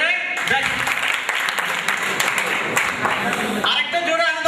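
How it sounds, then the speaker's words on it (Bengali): Audience at a university orientation and farewell program applauding in a dense, sustained burst of claps, with voices mixed in over it. "আরেকটা জোরে হাততালি দেন"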